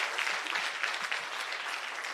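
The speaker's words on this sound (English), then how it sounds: "Please give yourself a round of applause." Attendees at a Women's Day celebration conference applaud themselves, a dense burst of crowd clapping that holds steady and fairly close for a couple of seconds without speech.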